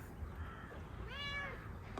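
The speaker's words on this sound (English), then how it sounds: "There's our cat coming to give us some love." A house cat gives one faint, rising and falling meow beneath a loud, steady background hiss.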